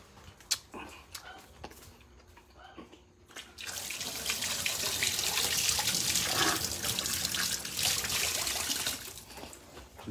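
Tap water gushes steadily into a sink while hands are washed, starting after a few seconds of faint clatter and running loud and close for about five seconds before stopping.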